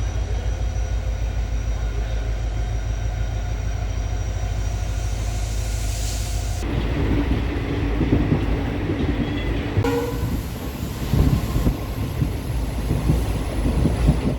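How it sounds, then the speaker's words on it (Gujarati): A passenger train runs at speed, heard from inside a nearly empty coach on a trip from Ahmedabad toward Salangpur: a steady loud rumble and rattle of wheels, with abrupt shifts in tone partway through. "અને અમે તેમાં બેસી ગયા. ટ્રેનના કોચમાં વધુ લોકો હતા નહીં"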